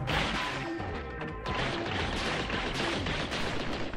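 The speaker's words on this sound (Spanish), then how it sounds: "No sé si afecta en algo romperlos o no." Crystals shatter in the game Gato Roboto, a dense, loud crashing and smashing that runs continuously with no pauses.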